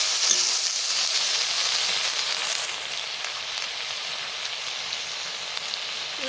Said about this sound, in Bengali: এইবার লতিগুলো ভাজা দেখাই দিচ্ছি।